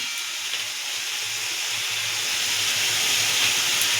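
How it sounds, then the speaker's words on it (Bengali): Water splashed into a pan of frying spice paste with cumin powder gives a loud, continuous hiss that stays steady and close throughout. "দিয়ে দেবো একটু জল যাতে একটু মশলাটা পোড়া না লাগে"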